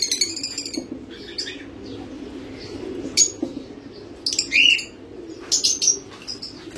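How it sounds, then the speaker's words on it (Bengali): Inside a pigeon coop on a bird farm, pigeons coo low and steady while other birds give bright chirps and brief bursts of wing flapping, all close and intermittent with no speech. "আমাদের আরো কিছু পাখি আছে ওই কবুতরের ঘরের ঘরে"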